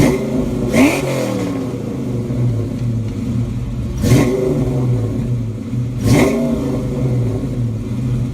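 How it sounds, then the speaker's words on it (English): A Ford Mustang Fox body with a 5.0 V8 and Flowmaster two- and three-chamber mufflers revs three times, each rise sharp and loud over a steady, throaty idle rumble. No voices. "there is only one muffler that makes the Fox body sing, and it is Flowmaster's 2 chambers and 3 chambers"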